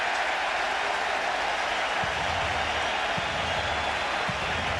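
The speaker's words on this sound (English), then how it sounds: "That kind of noise from a big crowd in this ballpark" A large ballpark crowd at Yankee Stadium roars in a dense, steady wash of cheering and applause throughout, loud and continuous with no break.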